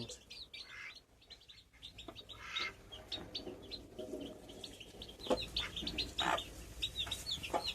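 Hens cluck and squawk in short bursts at moderate distance, mixed with small birds chirping, over a low background rumble.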